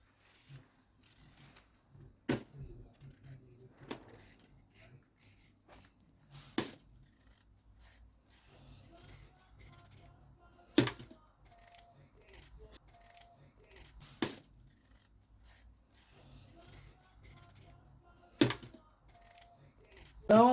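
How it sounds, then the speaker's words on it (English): Sweet potatoes are peeled by hand for a Jamaican-style pudding. Sharp scraping and cutting strokes come at irregular intervals, fairly faint, with small clicks and kitchen noises between them. "So firstly, I'm going to peel the potatoes."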